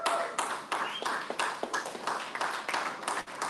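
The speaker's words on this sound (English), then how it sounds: "let's make sure to applaud for them as well" Applause at the NFT NYC conference, a soft spread of clapping with sharp individual claps standing out, fairly faint and steady with no talking.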